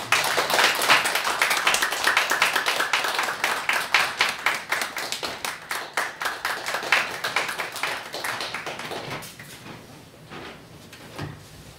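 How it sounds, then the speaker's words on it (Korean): A church congregation claps for several seconds, the applause thinning to scattered claps before fading out. "우리 박수로 축하합시다"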